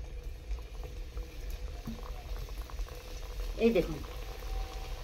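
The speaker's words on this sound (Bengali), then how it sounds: "আমি এইগুলো তেলে ছেঁকে নিচ্ছি" Semolina jalebi frying in hot oil makes a soft, continuous bubbling close by, with someone speaking briefly over it.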